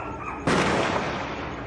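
A single sharp gunshot cracks out over constant noisy background commotion of people running in a street in Santa Rita, Vila Velha, Brazil, its echo trailing off.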